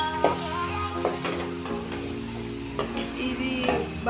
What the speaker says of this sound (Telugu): అన్నీ వేసుకొని ఫ్రై చేసుకుంటున్నాను.